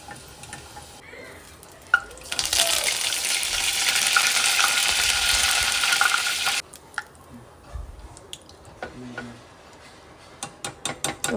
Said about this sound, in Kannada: ಅದೇ ಎಣ್ಣೆಲೆ ಸ್ವಲ್ಪ ಕರ್ಬೇವಿನ ಸೊಪ್ಪು ಕೂಡ ಫ್ರೈ ಮಾಡ್ಕೊಳ್ಳೋಣ.